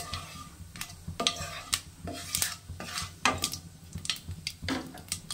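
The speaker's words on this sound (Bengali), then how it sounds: "এবারে ফোড়নে দিয়ে দেবো একটা তেজপাতা আর দিয়ে দিচ্ছি সাদা জিরে।" Bay leaf and cumin seeds hit hot oil in a pan that has just fried potatoes and pointed gourd for a potato and gourd curry. Light sizzling runs under a series of sharp metal spoon clinks against the pan.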